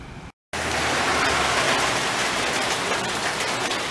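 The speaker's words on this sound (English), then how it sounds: "It was hard rain, man. Hard rain." Hard rain pouring down in a graveyard during a fishing outing, a loud, dense, steady hiss of heavy drops that continues unbroken after a split-second cut near the start, with no voices.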